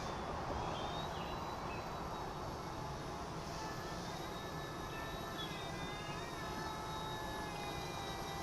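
A C-186 RC helicopter flies at dusk, its small rotors and motors making a steady, fairly faint whirring hum with thin high whines that drift slightly in pitch. The sound holds unbroken throughout, with no voices.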